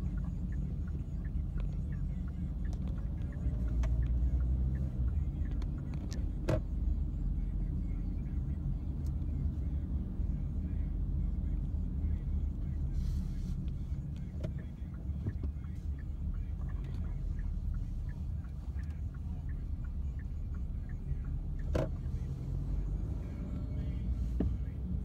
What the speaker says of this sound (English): there's quite a few vehicles on the road now